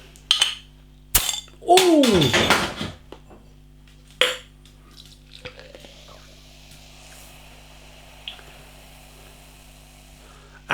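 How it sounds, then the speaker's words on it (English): A craft beer bottle with a black cap is opened and Duel Runnings quadrupel from Parizan and the Kernel Brewery is poured into a glass, with sharp clinks, a gurgling pour and a brief exclamation, then quieter fizzing. "Let's get this beer out into a glass and see what we get."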